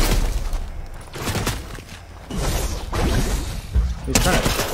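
Bursts of video game gunfire, loud repeated rattling volleys separated by short lulls, with a voice talking over them.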